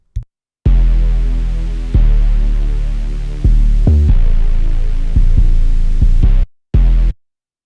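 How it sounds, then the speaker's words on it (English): Heavy, booming 808 sub-bass notes without cut-itself enabled overlap and smear into one another, loud and distorted, with sharp clicks where new notes cut in. "if you don't cut itself, your 808 is gonna bleed"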